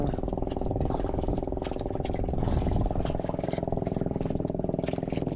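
A loud engine chugs in a fast, even rhythm close by, a continuous throbbing drone with no pauses and a few faint clicks on top.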